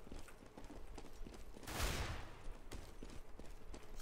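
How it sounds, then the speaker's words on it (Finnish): Footsteps in CS:GO, a steady run of faint, quick steps with a brief louder burst of noise in the middle. "Kuuluu vitusti askeleita."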